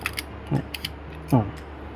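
Olympus Pen S camera shutter mechanism being worked and speed-tested after reassembly, giving two short soft mechanical clicks with a faint whir between them, close and quiet against a low hum.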